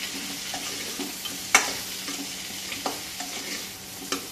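Coriander powder being stirred into a plantain curry cooking in a pan for a Kerala Onam sadya, with a steady soft sizzle broken by a few spoon scrapes and clinks, close by and without talk.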